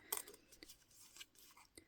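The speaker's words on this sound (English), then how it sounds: "So taking my paper, just wobbling my scissors around and making a" A few quiet, crisp snips and rustles of scissors cutting paper, spaced irregularly and close up.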